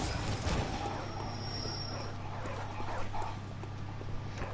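A dog in a video game barks and whimpers a few times over steady game background sound and music, fairly close and clear, with no talking.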